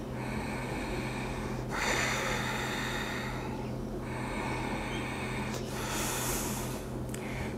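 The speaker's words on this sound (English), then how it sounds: "If we have the nostrils flaring and feel that sort of dragon breath coming through the nose" Forceful breathing through the nose with flaring nostrils, loud close rushing breaths in and out in several long strokes, heard alone.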